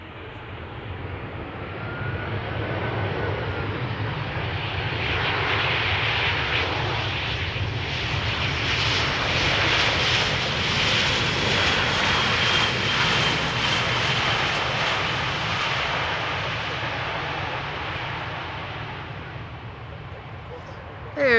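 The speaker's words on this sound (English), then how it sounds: "EasyJet coming in from Copenhagen, A319." An EasyJet Airbus A319 arriving from Copenhagen at Amsterdam Schiphol makes a broad, steady jet roar that swells and fades slowly over about twenty seconds, heard from a distance outdoors.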